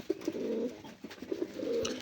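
Kaldam pigeons coo close by in a loft, two soft, throaty rolling coo phrases separated by a brief pause, with faint chirps at the edges and no talking.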